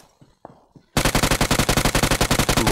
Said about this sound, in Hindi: चलो फायरिंग आ रही है